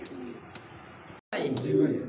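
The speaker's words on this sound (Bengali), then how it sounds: "দেখেন চমৎকার একটা লাল টকটকে কালারের মধ্যে এক জোড়া গোপালগঞ্জের বড় পায়রা" Low, soft coos from a pair of large red Gopalganj pigeons repeating close by, with a brief gap of silence midway and muffled voices in the background.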